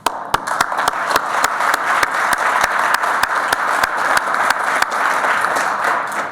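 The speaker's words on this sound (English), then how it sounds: "I'd like to have everyone give them a big round of applause" Sustained applause from a meeting audience, dense and steady with crisp, close hand claps over a continuous wash of clapping that holds for the full length without fading.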